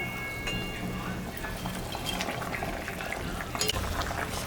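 Singhi fish goes into a simmering thin fish curry broth, with a soft, continuous bubbling and a brief splash near the end, quiet and close.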